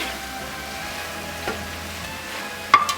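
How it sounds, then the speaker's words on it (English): Ground beef and pork, over two pounds of chuck and a pound of pork, browning for a Bolognese, give a steady low sizzle in a pan throughout, with a couple of sharper clinks or stirs near the end. "Now we're going to brown the meat."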